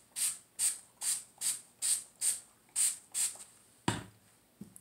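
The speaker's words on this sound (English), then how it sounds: "Let's see, the detangler spray." A detangler spray bottle sprays onto 4A hair in eight quick, even pumps, close and hissy, followed by a thump and light handling noises.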